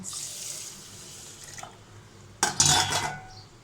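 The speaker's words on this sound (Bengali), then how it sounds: "পানি দিয়ে দেব।" Water poured from a tap onto soaking rice for badam polao in a kitchen, a faint hiss giving way to a short, close splashing burst near the end.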